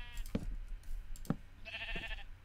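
Sheep bleat in the video game Minecraft, a few short bleats in a row close up over a quiet background, with faint clicking between them.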